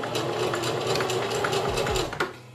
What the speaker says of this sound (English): I'm just gonna go in and I'm gonna reverse my stitch.